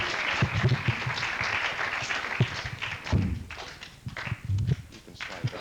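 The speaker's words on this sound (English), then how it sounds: "a round of applause for the excellent job" Applause from a junior high school poetry event audience for the writers and readers, a steady crowd clapping with scattered louder thumps and claps, fairly close, running throughout.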